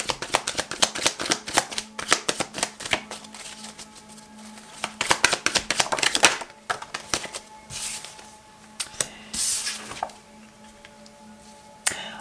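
Tarot cards shuffled and drawn by hand at close range: quick papery riffles and slaps in uneven bursts, with soft flicks and pauses between.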